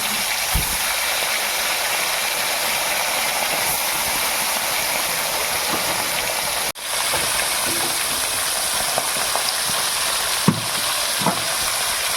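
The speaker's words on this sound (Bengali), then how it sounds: "এবার আমি একটা একটা করে মাছ ভেজে নেব।" Gurjawali fish fry one piece at a time in hot oil in a wok, giving off a continuous loud hiss and crackle with a few sharper pops and brief clatters near the end.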